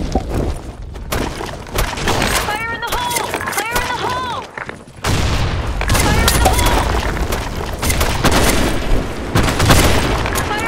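A grenade explosion and heavy gunfire in a multiplayer shooter game produce loud, continuous booms and rattling bursts, with a brief pitched electronic warble and game announcer voices mixed in.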